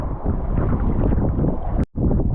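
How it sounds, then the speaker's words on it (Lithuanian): Strong wind at the seashore roars steadily across the microphone, loud and buffeting, with a brief drop near the end. "Vėjukas nemažas."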